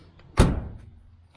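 Door of a 1978 Dodge Aspen R/T under restoration, a single sharp metallic clunk of the faulty door latch followed by a brief fading rattle.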